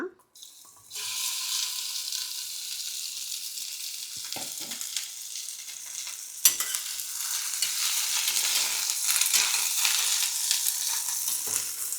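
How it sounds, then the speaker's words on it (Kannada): Okra (bhindi) dropped into hot oil in a pan for a curd-based curry, bursting into a loud, steady sizzle after a brief quiet start, with a few stirring knocks partway through; no one talks. "ಈಗ ಎಣ್ಣೆ ಕಾದಿದೆ, ಬೆಂಡೆಕಾಯಿನ ಹಾಕ್ಕೊಂಡ್ಬಿಡೋಣ."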